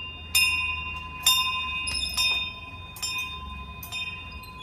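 A small hand bell rings several times during a Ganesh festival welcome, in bright, sharp clangs at uneven intervals, each tone ringing on briefly, with no voices.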